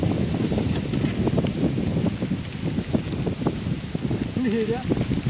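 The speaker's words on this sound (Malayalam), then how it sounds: "നല്ല കാറ്റാണ് കേട്ടോ" Strong wind blows in a rainy outdoor setting, a steady broadband roar with gusting buffets against the microphone throughout, while a person talks over it.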